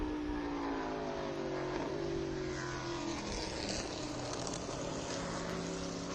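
A Trans Am race car engine drones continuously at Watkins Glen, a steady mid-distance roar with shifting engine tones, no voices.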